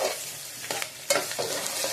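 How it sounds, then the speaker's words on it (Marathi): Garlic and potato stirred into browned onion in a pan, a steady sizzling fry broken by a few distinct scraping strokes of the spoon, close and fairly quiet. "आता याच्यामध्ये आपण घालणार आहोत लसूण, बटाटा आणि त्याला मिक्स करून घेणार आहोत."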